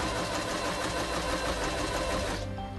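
A Kreshay sewing machine stitches steadily at close range, its motor whirring in a continuous mechanical drone that runs without a break before easing slightly near the end; no voices are heard.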